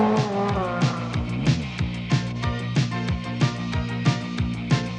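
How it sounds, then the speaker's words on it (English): A 2-litre Ford Escort rally car on a New Zealand international rally stage, engine note rising and falling steadily with repeated gear changes, recorded close with no talk. "Stewart has again mounted this challenge without any sponsorship for his 2-litre Escort."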